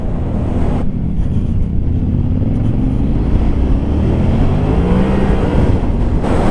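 Yamaha Tenere 700 adventure motorcycle accelerating, its engine a loud, close, continuous drone that rises steadily in pitch as revs climb, with a brief lull near the start and strong rumbling wind buffeting underneath.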